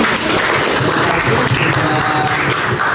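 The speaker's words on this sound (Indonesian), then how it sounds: "tepuk tangan dulu dong untuk Pak Hari" A roomful of people applauding steadily, dense clapping at an even level throughout with no pauses.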